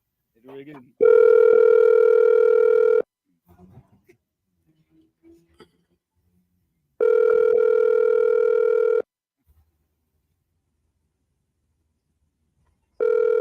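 An outgoing telephone call rings on a talk radio show, with two-second tonal ring bursts repeating every six seconds, separated by near silence with faint brief murmurs between them.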